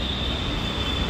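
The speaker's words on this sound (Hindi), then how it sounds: "और हमारी मेट्रो आ गई है" A metro train pulls into a station with a steady rumble and a thin high wheel whine, close and continuous over a short stretch, no one talking.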